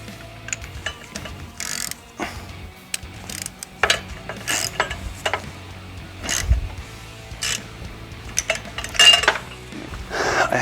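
A socket ratchet with a 13/16 socket working on a Craftsman mower, rapid clicking pawl bursts and metallic clinks of tools close up, without talk.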